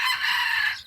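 A red junglefowl (labuyo) rooster gives a single short, shrill crow, close and fairly loud, trailing off quickly with no talking.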